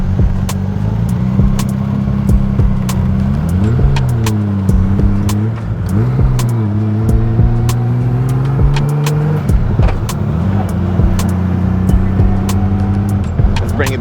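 A Honda Goldwing GL1500 motorcycle cruises and makes a quick U-turn, its engine droning steadily with pitch rising and falling as the rider eases off and accelerates through the turn, close and loud with road and wind noise.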